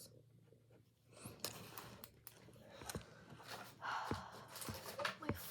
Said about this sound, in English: I'm getting a piece of parchment out. I'm going to sketch the dress.